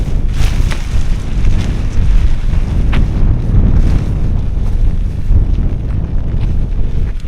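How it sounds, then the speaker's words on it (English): Strong storm wind buffets the microphone outdoors in grim weather, a loud continuous low roar with gusty surges and no talking. "Told you the wind was picking up a little bit."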